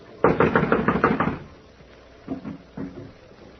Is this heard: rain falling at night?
no